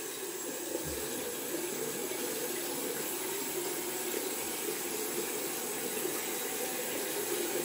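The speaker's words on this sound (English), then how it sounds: "Gonna rinse up the brush." A brush being rinsed under a running tap, with a steady, soft hiss of flowing water that continues evenly throughout, faint and alone.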